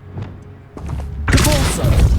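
A Confringo fire spell bursts in Hogwarts Legacy, a heavy booming blast that crashes in midway and rumbles on. Quieter thuds come before it.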